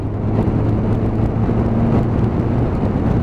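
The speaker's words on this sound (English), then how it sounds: "let's open the GTR up" Nissan GTR engine pulling hard under open throttle on a Sunday road run, a loud, continuous engine roar with rising tone heard from inside the car.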